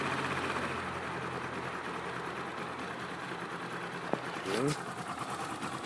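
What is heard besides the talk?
Skyteam V-Raptor 250 motorcycle engine idling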